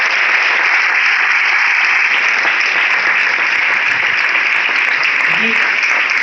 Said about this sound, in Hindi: तो हमारे सीनियर्स के लिए एक बार जोरदार ताली होना चाहिए।